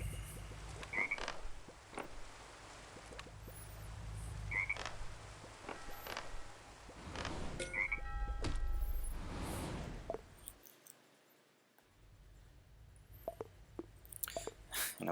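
Frogs croak in the Crossy Road video game, several short croaks spaced across a quiet stretch over low background game sound, with no talking.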